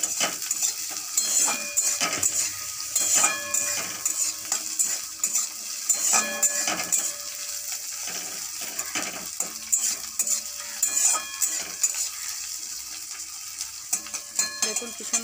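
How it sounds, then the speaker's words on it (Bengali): Brinjal with onion and green chili fries in a pan under a soft, steady sizzle, while a metal spatula repeatedly scrapes and clinks against the pan in bursts. "এটা একটু ভাজা ভাজা হবে"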